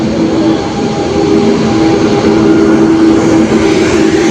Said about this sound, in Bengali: ট্রেন ঢুকছে এবার। WB7 লোকো নিয়ে